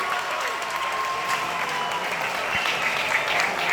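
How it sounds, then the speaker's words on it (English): Applause breaks out at ISRO during the Chandrayaan-3 lunar landing, a steady, dense wash of clapping from a large crowd that holds evenly throughout without any voices. "People are applauding."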